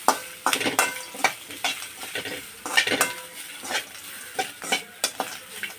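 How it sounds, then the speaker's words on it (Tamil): Grated coconut roasts in a pan while a spoon stirs it, giving repeated scraping strokes at an uneven rhythm over a soft, dry sizzle, close up and moderately quiet, with no talking. "தேங்காய் கொஞ்சம் நல்லா வறுத்துக்கிடுவோம்"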